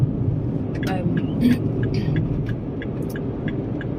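Road traffic on a busy Dutch street on the approach to King's Day: a steady low rumble of passing cars and a bus, with a voice talking over it throughout.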